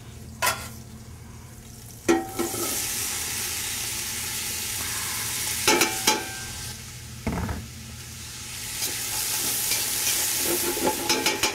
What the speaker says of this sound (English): we're going to add the rest of our mirepoix and our herbs to this